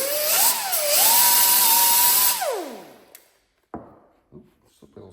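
A power tool cleans up a steel washer for a custom motorcycle fender, a loud high whine that rises, holds steady for about two seconds, then winds down. A few sharp clanks and knocks follow once it stops.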